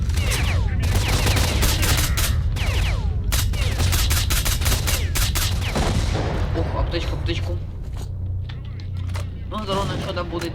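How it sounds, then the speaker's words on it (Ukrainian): Sustained gunfire from the S.T.A.L.K.E.R. Shadow of Chernobyl video game, with dense rapid bursts and volleys of shots filling most of the stretch, easing somewhat toward the end with a few scattered shots. "І зараз стрілянина та стрілянина."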